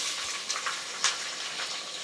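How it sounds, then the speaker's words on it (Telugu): Onions and peanuts frying together in a pan, a steady dense sizzle with faint stirring scrapes and small pops throughout, moderately loud with no talking. "ఎర్రగడ్డలు మాత్రం కొంచెం దూరగా వేయించుకోవాలి"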